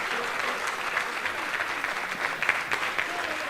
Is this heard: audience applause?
yes